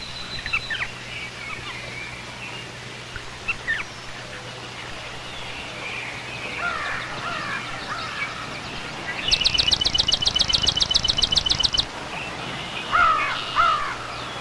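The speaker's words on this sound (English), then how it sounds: "The Florida gallinule calls from the depths of the reeds." Florida gallinule calling from deep in marsh reeds, a series of harsh, rapid clucking notes in a loud burst near the end, with other birds faintly calling across a quiet outdoor background.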